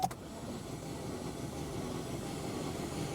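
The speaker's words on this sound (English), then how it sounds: "There's no compression in this engine." A Chevy Cruze engine with no compression after overheating cranks with a fast, even whirring rhythm, steady and close, with no firing or catch.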